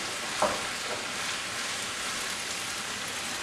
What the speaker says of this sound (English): you can throw your chickpeas in at this point. And just mix it up.